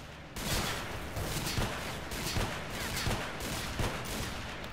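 Rapid gunfire from enemies armed with shotguns in the video game Stalker, a dense, loud fusillade of overlapping shots and bursts crackling continuously throughout, with no voices.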